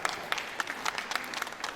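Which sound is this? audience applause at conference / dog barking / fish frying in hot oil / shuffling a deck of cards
audience applause at conference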